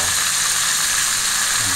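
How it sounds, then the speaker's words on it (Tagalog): Tilapia fries in a pan with a steady, close hiss and sizzle of hot oil, continuous and fairly loud for a brief moment, no voices. "Ipiprito natin muna yung tilapia."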